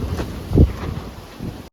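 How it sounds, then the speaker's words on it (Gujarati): Strong storm wind roars and buffets the microphone outdoors during a cyclone near Kotda, with a louder gust in the middle and a brief dropout near the end. "અહીંયા ભાઈ બહુ પવન ઉડે છે, વાવાઝોડું ભયંકર છે"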